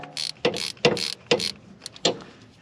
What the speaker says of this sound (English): Just use this little baby ratchet. Take this 10 mil out